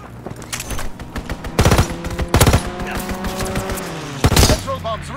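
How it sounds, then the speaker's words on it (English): Enemy strafing-run gunfire in Call of Duty WWII bursts out as several loud rapid-fire volleys, separated by short gaps, with rumbling battle noise and game sound effects in between. "Enemy strafing run inbound."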